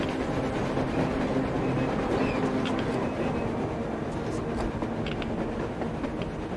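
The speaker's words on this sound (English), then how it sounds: "A train! A damn train on the surface!" A train passes overhead on the surface in the video game Metro Exodus, a steady low rumbling roar with faint rattling that holds at an even level throughout, with no one speaking.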